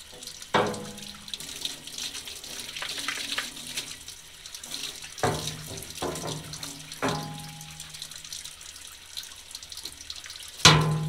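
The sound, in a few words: rinsing a paint roller under running water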